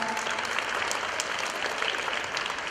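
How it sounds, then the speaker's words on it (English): A school crowd at a middle school award ceremony gives steady applause, a dense, even patter of many hands that continues without pause. "I want to give that boy a round of applause"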